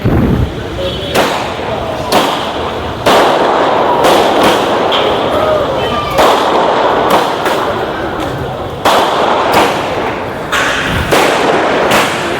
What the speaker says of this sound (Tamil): வெடி வேற போட்டுட்டு இருக்கிறாங்க.